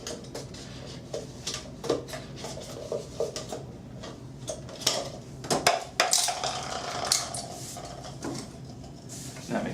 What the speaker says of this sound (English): I'll just cut around the little rim that's supposed to fit in your vehicle's cup holder.